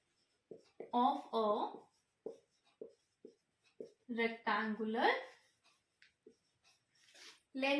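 A marker writes on a board during a maths lesson on mensuration, making squeaky, scratchy strokes in short separate bursts with pauses between them, close and fairly clear.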